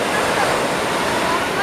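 Sea waves wash steadily onto a sandy beach in a loud, continuous roar of surf close by, with no break in the noise.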